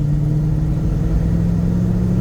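A 1975 Chevrolet Corvette C3, its power reduced by the oil crisis, idles with a steady, deep V8 rumble, close and loud, with no change in revs.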